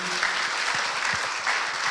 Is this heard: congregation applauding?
yes